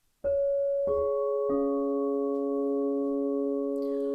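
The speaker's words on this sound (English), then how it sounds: "We're going to use bowls. We're going to use crystal." Crystal singing bowls ring out in three staggered strikes, their pure sustained tones layering into a steady, shimmering chord that hangs without fading.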